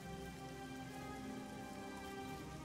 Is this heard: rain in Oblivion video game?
yes